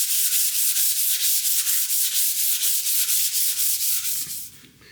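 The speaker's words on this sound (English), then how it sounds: "I am going to give it a very light sand with 220 just to kind of smooth everything out" A JH Williams wrench gets a light hand sanding with 220-grit paper, a close, steady rhythmic rasp of back-and-forth strokes that fades out at the end.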